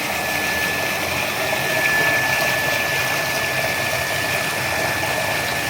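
A Turaco self-priming electric water pump runs steadily with a constant motor hum and a thin high whine, water rushing through it, loud and unchanging throughout.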